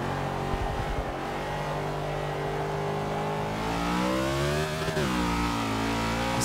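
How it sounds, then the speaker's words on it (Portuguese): A race car engine in Forza Motorsport 6 roars loudly and steadily, its pitch climbing as it is pushed hard, with a brief gear-shift dip around the five-second mark before the revs build again. "Forçando o carro agora, galera"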